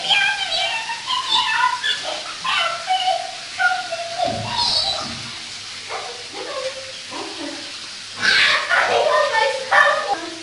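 A dog yips, whimpers and barks now and then while getting a bath, with a person talking throughout and the dog's noises sometimes overlapping the voice.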